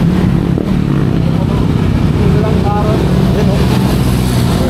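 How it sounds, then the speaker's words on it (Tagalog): A new motorcycle's engine revving nearby on the Marilaque highway, loud and steady, with the pitch rising and falling. "Tinetesting yung bagong motor ni Sanko."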